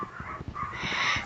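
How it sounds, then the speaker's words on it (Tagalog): Dogs yip and whine close by in a residential neighborhood, a quick run of short sharp bursts lasting just over a second. "ang ingay talaga dito sa mga aso"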